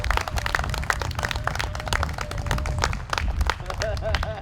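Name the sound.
applause for the director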